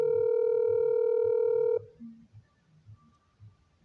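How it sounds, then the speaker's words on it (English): A telephone dial tone sounds steadily for almost two seconds, then stops and gives way to a faint, low, quiet line with a few soft muffled bumps. "if I dial that bottom number"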